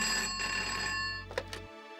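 A telephone rings in a home during a Hindi TV drama scene, a sustained electronic ring that cuts off abruptly, followed by a couple of faint handset clicks in quiet surroundings.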